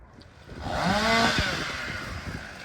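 A chainsaw engine revs up and whines at full throttle cutting an oak tree, then eases off, heard from a moderate distance outdoors in a garden.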